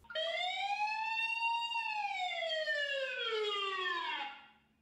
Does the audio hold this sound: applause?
no